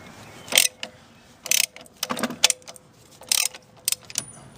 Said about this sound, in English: Right, just the last bolt here. I'll just take that one off.